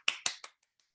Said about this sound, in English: Oh, I didn't mean to clap unmuted